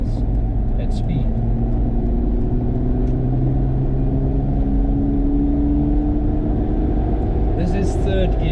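Toyota Land Cruiser 80 series cruising on a highway: a steady low engine and road rumble with tonal drone throughout, loud and close from inside the cabin, with brief higher clicks near the end.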